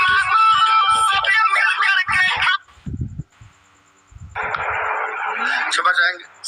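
Incoming phone call ringtone breaking into a live Hindi-language talk, a loud, bright repeating ring heard in two long stretches, with a voice speaking briefly in the gap between them.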